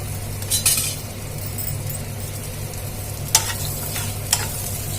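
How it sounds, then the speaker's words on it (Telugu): Onions and curry leaves frying in oil for a curry, a continuous close sizzle with a few sharp stirring clinks against the pan partway through, no talking. "ఇట్లా నూనెలో ఒక్క ఒకటి రెండు నిమిషాలు అయితే ఇట్లా వేగాలన్నమాట ఉల్లిపాయ"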